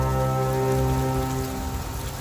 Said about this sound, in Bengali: রাতের সময় মুষলধারা বৃষ্টি হয়।